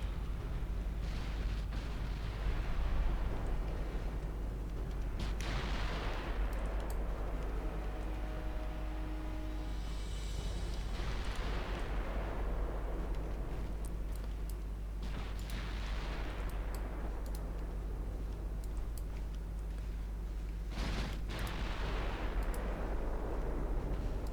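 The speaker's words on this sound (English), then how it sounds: "You guys can keep killing the light cruisers with your 7-inch guns." Seven-inch naval guns fire in the naval warfare game Ultimate Admiral Dreadnoughts, set in 1922, with repeated heavy booms rolling out over a constant low rumble of background battle noise.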